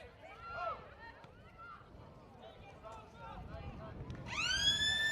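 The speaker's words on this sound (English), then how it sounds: "And there goes the siren for half time." A loud half-time siren at a country Australian football match wails in near the end, rising and holding over distant crowd noise and a commentator's voice.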